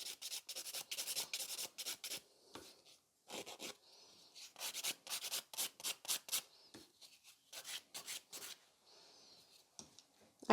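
A nail file is rubbed over builder gel on a nail in quick, close bursts of raspy strokes, with short pauses between runs.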